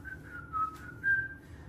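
A person whistles a short melodic pattern for a bluegrass song, clear wavering tones up close that rise and dip in pitch over a couple of seconds, alone and without talk.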